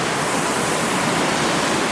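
Western Creek Falls, a roughly 10-metre waterfall in Tasmania, heard as a loud, steady, dense roar of rushing water close by, with no voices.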